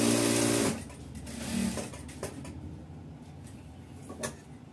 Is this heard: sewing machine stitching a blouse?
yes